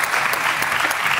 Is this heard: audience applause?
yes